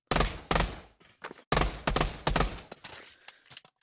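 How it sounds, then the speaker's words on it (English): A Glock pistol fires in the game Pavlov with loud, close shots in quick irregular bursts. Brief pauses separate the bursts, and fainter clicks and handling sounds follow them. "The Glock is a useless gun."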